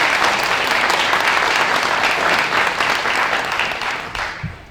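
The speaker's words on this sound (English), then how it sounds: "Let's give them a round of applause." Audience at a kindergarten orientation applauding the kindergarten teaching team, a loud, dense round of clapping sustained for several seconds before fading out.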